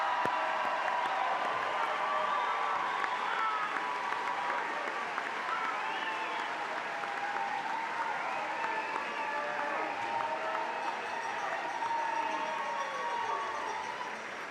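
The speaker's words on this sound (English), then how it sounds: "giving our entire class a round of applause" Sustained applause from a large audience at a high school commencement as the graduating class rises to be recognized, steady dense clapping throughout with a faint murmur of crowd voices underneath.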